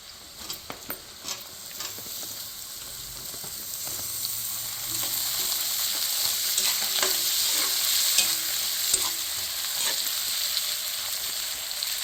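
Dried red chillies, green chillies and curry leaves crackle and sizzle loudly in a hot oiled pan for Andhra mango dal, with occasional stirring scrapes and soft pops throughout.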